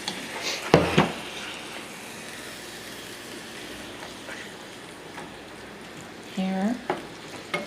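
Taco meat frying in a pan gives a soft, steady sizzle, broken by a couple of brief scraping stirs near the start and a faint electronic beep later, with no talking.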